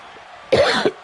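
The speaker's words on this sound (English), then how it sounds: "Apologise for the little cough there." Two short, sharp coughs come close to the microphone, one just after a quiet pause and another a moment later, loud against faint background.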